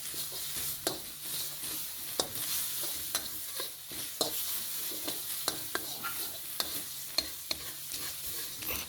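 Pounded lemongrass paste stir-fried in a pan, a quiet continuous sizzle punctuated by regular sharp clicks and scrapes of a spatula against the pan.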